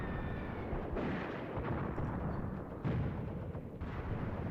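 Distant heavy gunfire from a 45 mm gun on a World War II battlefield in Graviteam Tactics: Mius Front, a continuous low rumble of booming shots with a few sharper reports rising over the din.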